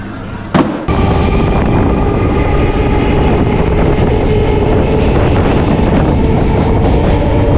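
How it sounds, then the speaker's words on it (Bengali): A Gede to Majerhat galloping local train pulls out of Payradanga station with a loud, close, continuous rumble of wheels on rails after a brief sharp knock at the start, with no talk. "ছেড়ে দিল আমাদের পায়রাডাঙ্গা স্টেশন থেকে ট্রেন"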